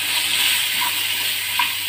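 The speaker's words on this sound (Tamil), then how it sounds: "ஆனியன் நல்லா வதங்கட்டும்." A steady, close sizzling hiss of onions frying in a pan for paneer butter masala, constant throughout with a couple of faint pops and no voices.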